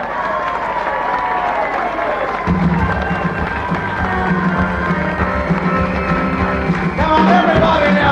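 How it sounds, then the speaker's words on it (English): Audience applause and cheering for the aging performers of a 6 o'clock rock show, steady loud clapping and crowd shouts throughout, with a low droning hum and voices mixed in. "Everybody now, big round of applause for the living legends!"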